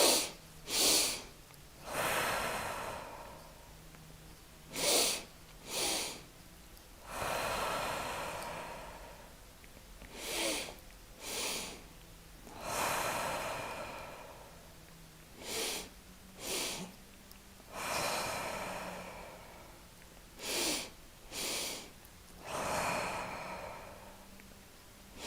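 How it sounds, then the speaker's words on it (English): Slow deep breathing during a guided breathing exercise, with long drawn inhales and sighing exhales alternating with short sharp sniffs, repeated in a steady rhythm and heard close and clear with no talking. "I'm going to continue the breathing exercise"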